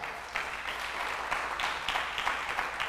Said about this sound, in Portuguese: Você pode dar um aplauso aí então para acordar?